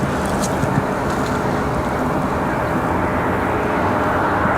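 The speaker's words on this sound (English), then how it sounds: "There's our CRJ." A CRJ regional jet at Raleigh-Durham International Airport produces a loud, broad engine roar that holds steady and slightly swells over a few seconds, with no talk.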